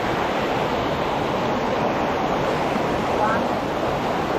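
Water of a river rushing steadily and close by, a dense, continuous wash that holds level for the whole stretch with no break.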